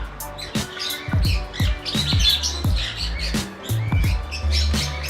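Bird squawking at Queens Park, Invercargill: a run of harsh, repeated squawks at close range in an uneven rhythm, with no talking.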